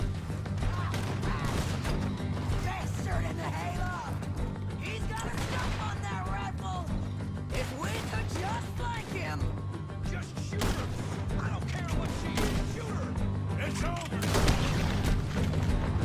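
Gunfire and booming shots from the Red Dead Redemption video game ring out repeatedly through sixteen seconds, set against a steady music bed with voices heard intermittently.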